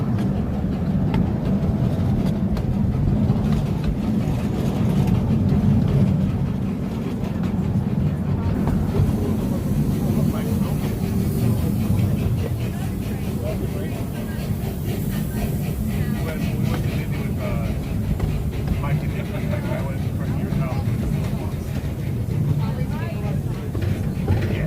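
Amusement park train at Hersheypark rolling along its track, a steady low rumble with faint clicking wheels running continuously, with people's voices audible throughout.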